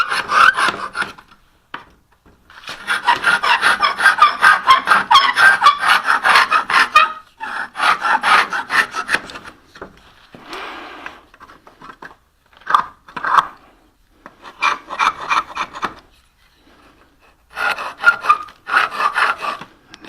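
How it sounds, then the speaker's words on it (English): A scraper rasps loose paint and grime off a painted wooden window sash in repeated rhythmic bursts of close, gritty scraping, separated by short pauses. "So I can just give that a quick scrape, knock off paint that's loose."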